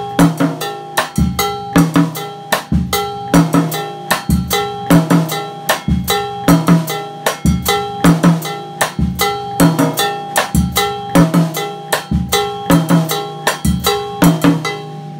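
Drum set playing an Afro-Caribbean bongo-bell pattern: a steady, loud bell rhythm over a half-note bass drum pulse played with the foot, repeating evenly and up close with no talk.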